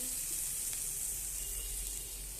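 Spinach paste hitting spices frying in oil in a pan, giving a steady, close hiss of sizzling throughout with faint stirring.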